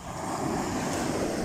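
Sea waves wash steadily onto the shore of a bay in Primorsky Krai, a continuous broadband surf roar with light wind noise on the microphone, no voices.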